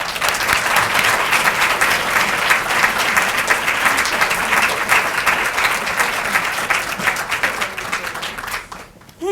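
Sustained audience applause welcoming author Emma Donoghue at a talk on writing historical fiction, a dense steady clatter of many hands filling the room for about nine seconds before tapering off at the end.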